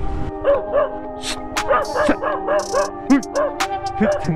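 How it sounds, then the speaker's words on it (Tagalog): A dog barks in a quick, uneven series of sharp barks and yips, fairly close by, along a dark, remote road on a Grab rider's route, with a steady hum underneath. "Inang aso yun."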